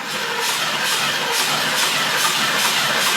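A carbureted Ford Mustang engine with old fuel in its lines cranks and tries to start, giving a loud, continuous mechanical churn with a faint rhythmic pulsing and no clean catch.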